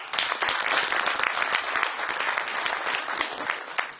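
A seminar audience in Barcelona applauds heartily, dense overlapping clapping sustained at a steady, fairly loud level from start to finish.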